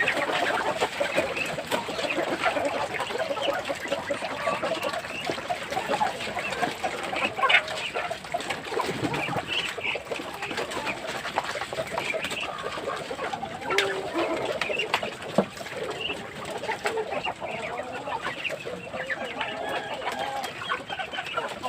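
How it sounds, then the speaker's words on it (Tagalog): Chickens clucking and cooing while being fed in a backyard poultry pen, a continuous busy chorus of birds close by with scattered louder calls and no talk. "nandito naman po tayo sa ating alaga ng mga manok pangpakain."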